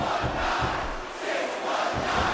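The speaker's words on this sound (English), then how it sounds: "the crowd is trying to get Mysterio back in this" Wrestling crowd at a Smackdown event cheering for Mysterio, a dense roar of many voices swelling and chanting in rough pulses, loud and continuous.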